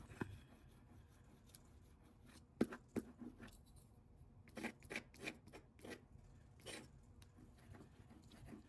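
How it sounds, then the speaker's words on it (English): A palette knife scrapes back into wet paint on paper, making soft, close rasping strokes in short irregular bursts, faint and without speech. "now I'm going back in with the palette knife and kind of scraping back into it"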